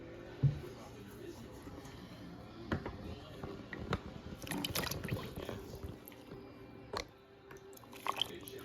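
Washed chicken gizzards poured into a 10-quart pot of water for homemade broth: faint, scattered wet splashes, plops and drips, with a few louder splashes along the way and no talk over them.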